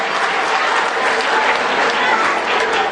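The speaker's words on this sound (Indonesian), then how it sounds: "tepuk tangan buat semua ya" Steady applause from a high-school student audience at an exam-motivation training session, dense clapping throughout at even loudness with no speech over it.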